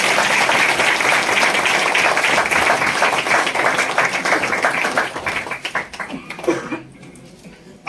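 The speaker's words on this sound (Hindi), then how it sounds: "जोर से हम तालियां उसके लिए लगाएं।" A church congregation claps loudly and continuously at a Christmas service, the dense applause holding steady before thinning out into scattered claps and fading near the end.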